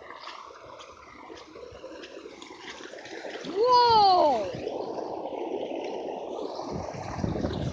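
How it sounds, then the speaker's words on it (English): Dirty orange water gushes in a steady, loud rush that swells midway, with a voice exclaiming over it. "The water is humongous, it's like somebody's peeing, but it's not, it's just dirty water"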